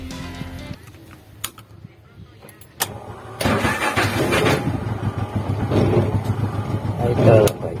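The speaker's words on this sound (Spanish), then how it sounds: "vamos a arrancar la moto" A few clicks and a cranking attempt, then a motorcycle with an electrical fault catches and keeps running with a rough, rising rumble.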